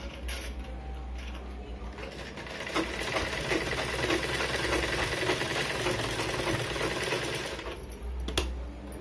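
Close, steady mechanical whirring of a sewing machine running a half-inch seam on a blouse waist joint, continuous for several seconds with a slight swell in the middle and no talking.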